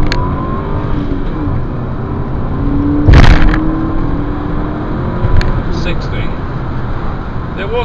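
An Audi car's engine roars as it accelerates hard from standstill in a 0 to 60 test, with loud rushing road and wind noise and a brief burst of louder noise midway amid front wheel spin.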